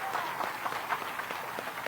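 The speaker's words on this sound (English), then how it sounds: "let's give the volunteers a round of applause" Applause from a crowd at a bass fishing tournament weigh-in, a steady wash of clapping hands, fairly distant and continuous, with possible voices mixed in.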